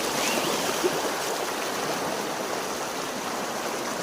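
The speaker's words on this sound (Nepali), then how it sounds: "म चाहिँ खोला तरै जुत्ता भिजाएर" Cold stream water rushes and splashes in an even, close roar while a person wades across the streambed in shoes, the flow steady and unbroken from start to finish.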